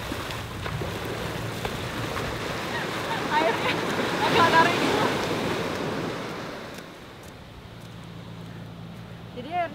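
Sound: big ocean waves at Bias Tugel beach, Bali

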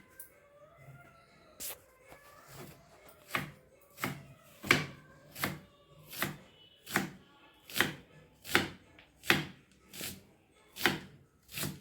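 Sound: slicing onion with a knife

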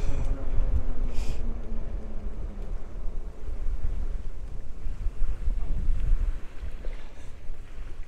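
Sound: strong wind

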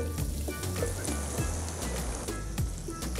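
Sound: okra searing in hot oil in a pan

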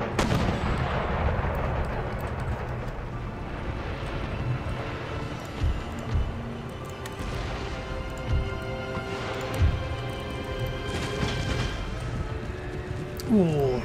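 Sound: artillery firing in Empire Total War video game

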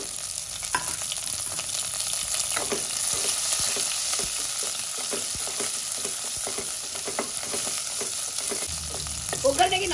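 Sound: tempering of cumin, curry leaves, chilies, garlic, onion frying in oil

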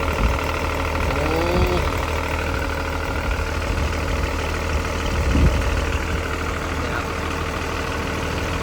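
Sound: Isuzu six-cylinder engine running on Hitachi EX200-2 excavator

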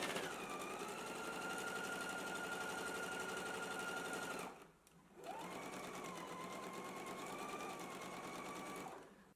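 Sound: sewing machine stitching a seam

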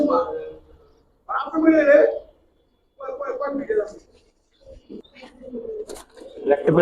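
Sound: giribaz pigeons cooing in loft

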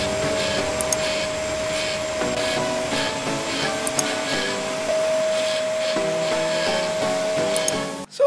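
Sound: drilling holes in wood with 10 mm Forstner bit

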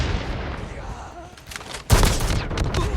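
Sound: gunfire in Call of Duty Mobile video game

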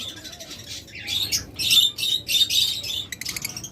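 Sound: pet birds calling in a bird shop

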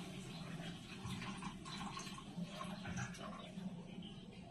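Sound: adding water to gravy while cooking

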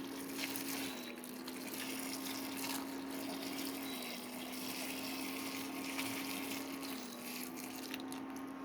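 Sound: pouring hot sugar syrup over gooseberries

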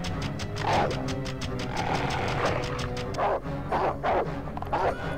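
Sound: dog barking in video game Conker's Bad Fur Day

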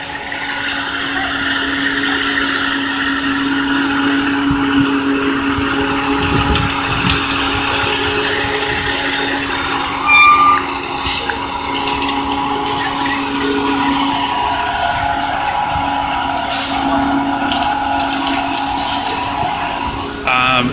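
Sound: cement truck driving by

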